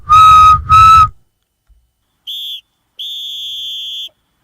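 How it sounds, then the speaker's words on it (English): Two long, shrill whistle blasts close by, then two thinner, higher tones, the second held longer, with short silences between. "Blow the whistle."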